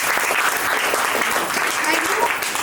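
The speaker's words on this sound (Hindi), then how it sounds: "इन लोगों के लिए तालियां हो जाएं इनके स्वागत" Loud, sustained audience applause welcoming directors and achievers at a franchise launch meeting in Ayodhya, dense clapping that runs the whole time under a speaking voice.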